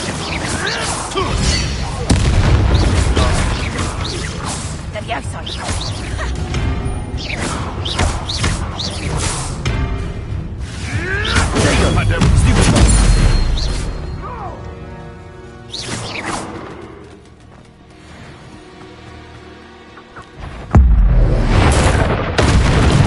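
A Confringo blasting spell in Hogwarts Legacy: repeated heavy booms and crashing impacts over about twenty seconds, loud and close, with quieter stretches before a final forceful burst.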